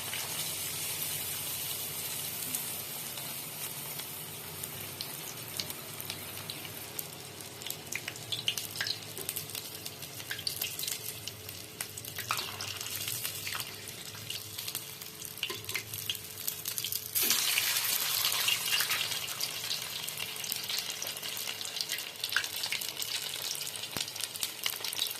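Small battered fish frying in hot oil, a steady close crackling sizzle that runs on alone, swelling louder partway through with bursts of spattering.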